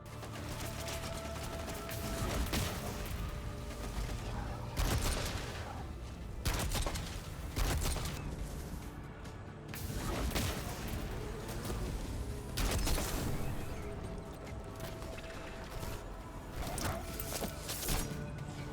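Destiny 2's Kvostov gun fires ricochet rounds in repeated bursts of sharp, loud shots with crashing impacts and whooshes, continuing throughout with short pauses between volleys.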